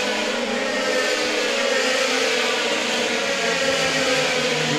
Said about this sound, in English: So the cars scream across the timing line